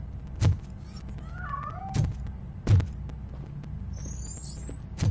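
In the Robocop Rogue City video game, a cat gives a short, soft meow amid heavy thudding impacts and a low ambient hum, with a thin high squeal near the end.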